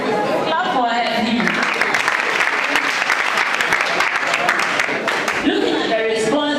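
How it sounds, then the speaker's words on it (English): A room full of people applauding a woman, steady dense clapping that fills the whole stretch with crowd voices mixed in, fairly close and loud. "Clap for her."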